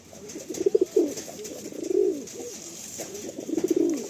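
Loft pigeons coo in repeated soft, throaty bursts, several rolling calls close by over a faint background hiss, with no talking.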